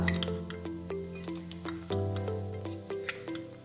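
Cumin seeds (jeera) splutter in hot oil in a pan for dhaba-style bhindi masala, with a run of small pops and crackles over a soft sizzle, close and fairly quiet, with no talk.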